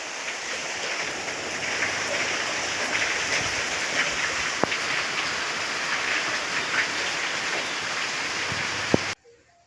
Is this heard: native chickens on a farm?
no